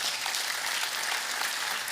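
Guests are welcomed with sustained, even applause from a large congregation at a bishop's ordination and enthronement ceremony, a dense wash of clapping with no voices.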